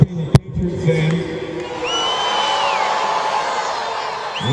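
Crowd of young players and campers at a football passing academy cheering and whooping, a loose sustained roar of mixed voices with a few higher shouts, fairly close and filling the whole stretch after a sharp bang at the start.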